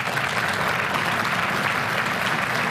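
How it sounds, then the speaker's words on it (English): Sustained audience applause at a national conservative event, dense steady clapping filling the whole stretch at an even loudness with no talk over it. "Let's give him one more round of applause."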